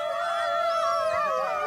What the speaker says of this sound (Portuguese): O uivar fortalece os laços, mantém a coesão da alcateia e divulga a posse de um território.